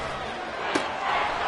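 A stadium crowd in the Madden 22 football video game roars steadily and loudly on a third-and-long play, a dense wash of cheering with a brief thump partway through.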